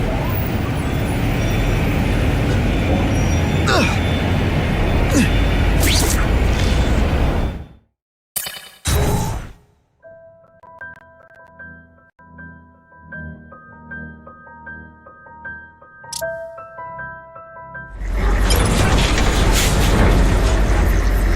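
A truck drives through city traffic in The Amazing Spider-Man 2 video game. Loud, steady road and engine rumble breaks off into near silence, sparse game music plays over a faint bed, and then the heavy traffic noise returns.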